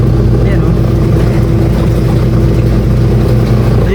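Repaired washing machine motor running with the tub filled with water, a loud steady low hum and churning drone that continues evenly and up close without pause.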